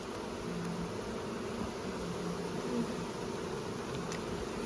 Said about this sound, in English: There's definitely a lot of bees on this